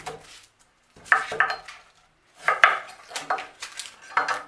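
An onion being sliced with a knife on a board in a home kitchen, several crisp chopping knocks in short clusters separated by brief pauses, close and fairly loud with no talking.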